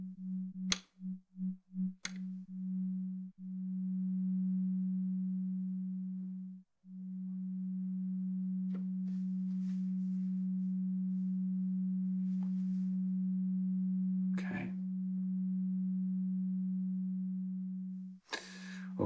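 Behringer 902 VCA module passing a steady sine-like tone, first pulsed in quick short bursts, then held as a long sustained note with small clicks, switched between linear and exponential modes; quiet and alone, with no talk.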